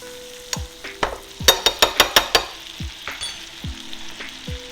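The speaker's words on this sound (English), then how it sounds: "Now we're gonna go ahead and let this butter turn brown." Butter browns in a hot pan around lamb steaks, with a steady close sizzle and a run of sharp, rhythmic taps and spoon knocks against the pan.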